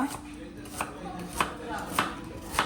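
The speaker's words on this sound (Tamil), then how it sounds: "இரவு சாப்பாடு கொத்து ரொட்டிக்கு வெங்காயம் பண்ணி கொண்டிருக்கிறா" A knife chops onions on a board for Jaffna-style kottu roti, with steady, close, distinct strikes about every half second.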